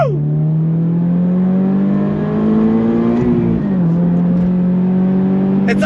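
A Toyota GR86 engine pulls hard on throttle, a loud steady climbing drone that briefly peaks, drops with a gear change, then resumes climbing close up.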